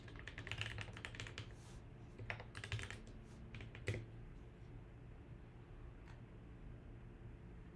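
Someone types on a second computer keyboard while coding at a desk, with bursts of rapid key clicks in the first half that thin out to a few isolated taps, then near quiet over a steady low hum.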